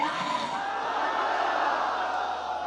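A large gathered crowd at an Islamic religious gathering roars back in unison after a Nara-e-Haidari slogan, a sustained loud mass of voices with no pauses.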